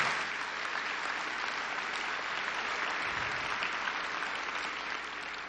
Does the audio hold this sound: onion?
no